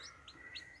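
Newly hatched free-range chicks peeping in a few high, thin chirps, faint and close, with quiet background hiss.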